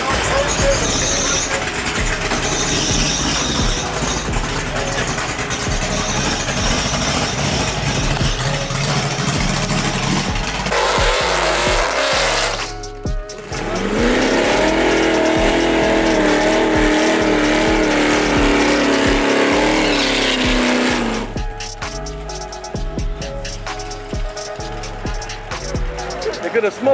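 Loud engines roar and rev as cars race a Dodge Hellcat at a street race, a continuous heavy rumble that surges and shifts, with people talking and shouting over it.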